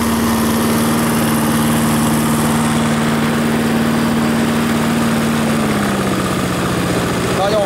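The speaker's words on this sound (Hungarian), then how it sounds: "Hallgassátok a hangját" Yamaha MA 190 self-propelled lawn mower engine idling up close, a steady droning hum that dips slightly in pitch near the end as the throttle drops, with faint talk underneath.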